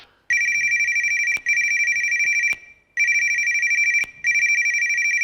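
A telephone rings in four electronic bursts, each about a second long and separated by short pauses, loud and close with nothing else heard.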